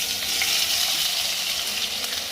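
Potatoes sizzling in hot oil with a pinch of asafoetida in a home kitchen pan while poha is cooked, a steady bright hiss with soft stirring scrapes, close and continuous.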